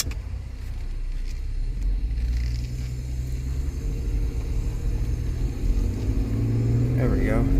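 Steady low engine and road rumble heard from inside a 2008 Nissan Pathfinder 4.0L 4x4 while driving with the windows up, continuous throughout and rising slightly near the end as it picks up speed.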